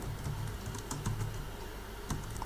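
Quick, light keystrokes patter on a computer keyboard as Python code is typed, an irregular run of soft clicks with small pauses against a faint room hum.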